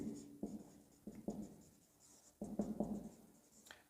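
Pen or chalk writing numbers during a Class 9 maths lesson on number systems, a few short scratchy strokes in quick bursts, close and quiet, with no talking.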